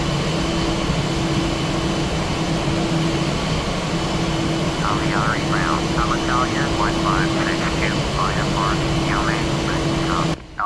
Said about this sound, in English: And there's another plane going. It's off to Fiume, which is Rome Fiumicino Airport.